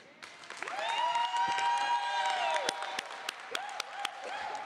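Audience applause building into steady, dense clapping from a crowd at an International Women's Day event, with a loud sustained tone ringing over it and a few sharp knocks.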